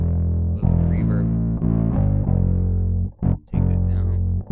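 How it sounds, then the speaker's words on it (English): A sustained electronic synth tone from the Funk Force 5 Kontakt library rings out with a reverberant, washed tail, holding steady chords that shift a few times before briefly cutting out and returning. "A little bit of reverb."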